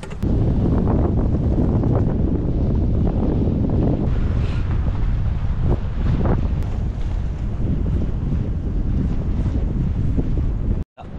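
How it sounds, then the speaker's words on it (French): A strong, sustained wind gust roars across the microphone on a sailboat at sea, with rushing waves and boat noise underneath, cutting off abruptly near the end. "Là c'est le gros coup de vent."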